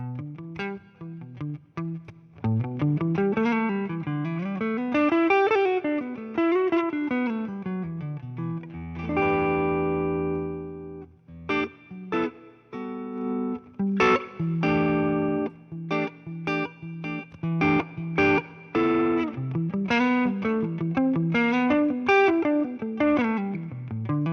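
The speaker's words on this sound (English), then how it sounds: "when we click on Tube Screamer, I'm into a deluxe reverb right now." Electric guitar through a Tube Screamer overdrive pedal into a Deluxe Reverb amp, crunchy distorted chords and melodic runs played steadily with a warm amp tone, loud and alone.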